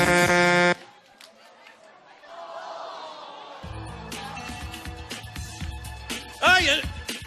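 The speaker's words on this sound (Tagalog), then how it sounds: "Ay! Nakabusinahan na ni Bale" A vehicle horn honks on a road, a loud harmonic blast at the start and another short burst near the end, with traffic rumble and voices in between.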